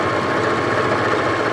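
A sewing machine runs steadily, stitching sideways around a curved seam on nurses' scrubs trousers, a continuous close whirring motor drone with no pauses.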